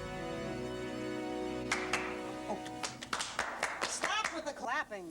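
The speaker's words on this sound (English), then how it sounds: "Stop with the clapping" A few people clap in quick, uneven bursts after a steady musical tone, the claps close and sharp.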